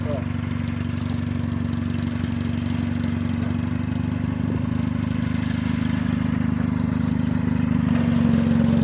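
A mini tractor's engine runs steadily in fourth gear range, a continuous low droning hum with a strong even tone that grows slightly louder toward the end.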